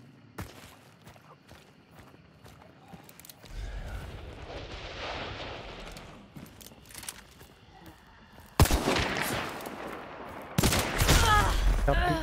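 Video game gunfire: sparse distant shots and clicks, then a sustained roar of rapid fire, with sharp loud bursts near the end, mixed with faint talk.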